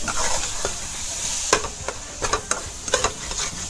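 A beetroot, grated coconut and jaggery barfi mixture with gram flour stirred in a pan, a spatula scraping in a run of distinct strokes over a steady soft sizzle, close and alone.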